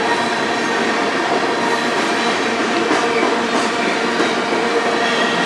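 A freight train with a rear engine, carrying potash, rolls steadily past nearby on the Strathroy Subdivision, a continuous loud rumble of wheels on rails with faint clatter and squeal, no voices.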